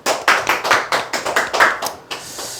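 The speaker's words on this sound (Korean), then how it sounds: "박수" A short round of applause from a small group, a quick run of close, sharp claps lasting under three seconds that tapers off at the end, with no talking.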